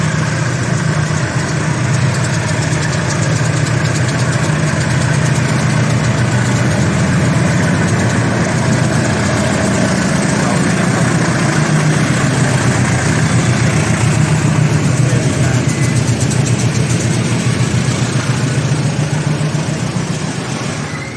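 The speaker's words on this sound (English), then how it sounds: "It's been pulled by a diesel engine because the actual steam train broke down." Loud, steady diesel locomotive engine rumble as it hauls a tourist train in place of a broken-down steam engine, a continuous deep drone with a low throb that holds unbroken for about twenty seconds, no talking over it.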